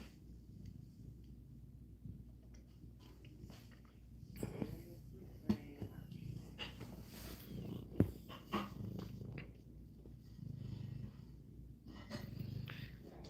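Cats purring softly and steadily up close at night, a low continuous rumble with a few small bumps and rustles mixed in.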